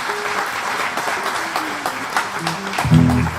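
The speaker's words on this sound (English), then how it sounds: "give her a big round of applause" Audience applause for a singer at a live Saturday-night music show, a full continuous crowd of clapping that swells toward the end as a guitar note rings in.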